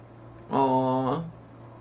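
A pet cat gives a single drawn-out, tonal meow lasting under a second, moderately quiet against a calm indoor background.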